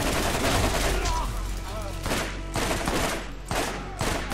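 Rifle fire in the Borderlands video game, rapid bursts of gunshots in quick volleys with short gaps between them, loud and close, with game sound effects layered underneath.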